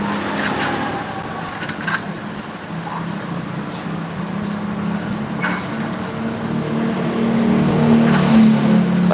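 A motorbike engine revs steadily in the Free Fire video game, a continuous droning roar that builds slightly in loudness toward the end, heard alone without talking.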